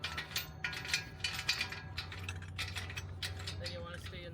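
A 1.5-inch T-handle bolt is tightened into a slot nut behind an RV ramp, giving faint, irregular metallic clicks and scrapes in quick bursts, close by, with a voice murmuring in the background.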